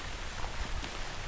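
Rain falls in a forest, a brief wash of steady patter and drips on leaves, soft and close with no voices.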